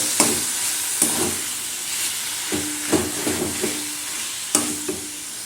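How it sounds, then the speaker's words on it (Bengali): Spices and mashed prawn fry in a pan with a steady sizzling hiss, broken by periodic scrapes and knocks of a spoon stirring the mixture, close and without talk. "এবারে আমি সব কিছু ভালো করে নেড়ে চেড়ে মিশিয়ে নেব।"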